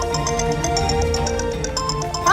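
A phone rings with a repeating electronic tone pattern in a household scene, steady and fairly loud, with background music-like tones throughout.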